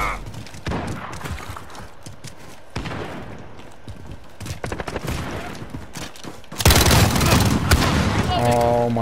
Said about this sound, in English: Why are you shooting? There's no reason to shoot.